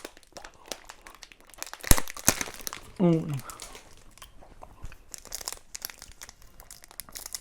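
Crinkly plastic packaging rustles and tears as an item stuck to a subscription snack box packet is pulled off, with a few sharp crackles and a brief squeak-like rip, under quiet French talk.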